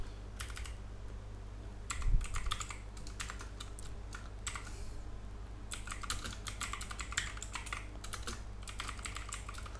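Computer keyboard typed in quick clustered bursts with short pauses while running a Python script, close and fairly quiet, with no speech.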